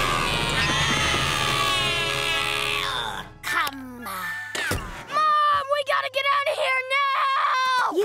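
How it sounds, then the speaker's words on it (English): Cartoon characters scream in a loud, high-pitched sustained burst for about three seconds, then after a short pause a series of shorter shrill cries and yelps follow. "Can you guys stop screaming every 5 minutes?"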